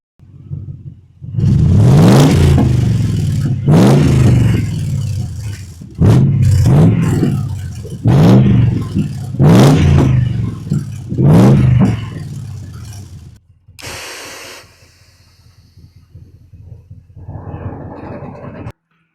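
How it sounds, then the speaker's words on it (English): A 1964 Ford F100 pickup with a swapped 4.6 V8 revs hard in repeated loud bursts, about six sharp throttle blips rising and falling over a steady rumbling idle, then settling to a quieter idle. "I'm going to set down the phone and give it some revs,"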